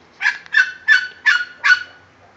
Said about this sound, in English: I do have some birdies here somewhere.